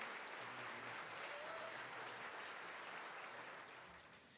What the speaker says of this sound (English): Please join me again in applauding their efforts.